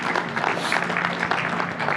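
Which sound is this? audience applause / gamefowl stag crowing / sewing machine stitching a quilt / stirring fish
audience applause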